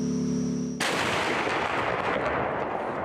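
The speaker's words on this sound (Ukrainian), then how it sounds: "Танкісти повернулися із бойового завдання, отримали координати контрольно-спостережного пункту, де засіли окупанти, і прямою наводкою влучили в ціль." A tank cannon fires directly at a target: one sharp, loud blast cuts off a steady humming tone and rolls away in a long, fading rumble.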